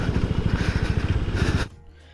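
A TVS Apache RTR 160 4V BS6 motorcycle engine thumps in a quick, regular pulse close by, then cuts off sharply, leaving near silence.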